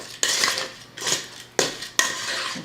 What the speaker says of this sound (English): we're just going to take them and throw them into the sauce and mix that around